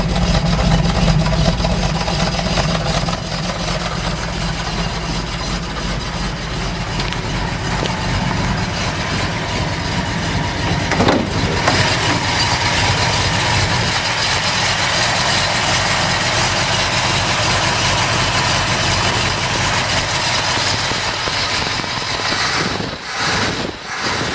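A car engine fitted with an MSD ignition system idles loudly and steadily for the whole stretch, a continuous close rumble with no talking over it.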